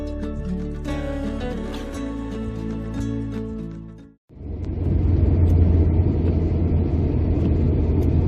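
Car driving out to the main road on a winter morning in rural Maine, a steady low engine and tire rumble that follows an abrupt cut from music, continuous and close.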